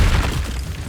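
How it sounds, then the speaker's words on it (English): The Incendio fire spell in Hogwarts Legacy goes off as a short, deep, booming whoosh, loud at the start and fading slightly over under a second. "Incendio! The flames consume!"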